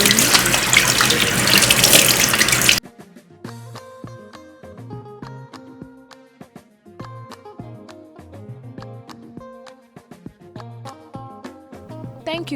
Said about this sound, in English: Wash your hands thoroughly.